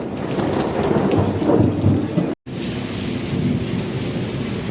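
Heavy rain pours steadily while thunder rumbles low underneath, broken by a brief moment of silence midway before the downpour resumes.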